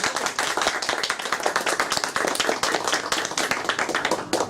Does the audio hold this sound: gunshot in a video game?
no